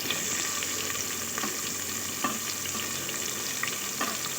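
Sliced large onions frying with biryani spices for a banana-flower biryani, a steady dense sizzle with a few faint scrapes of stirring, close and continuous with no talk.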